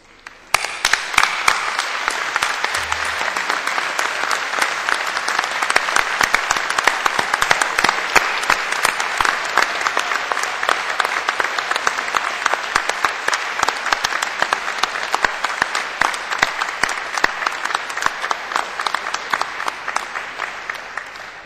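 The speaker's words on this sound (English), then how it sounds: "giving them an enthusiastic round of warm applause" Enthusiastic applause from a graduation ceremony audience at Cardiff University for family and friends, a dense, sustained roar of many hands clapping that continues steadily for a long stretch without speech.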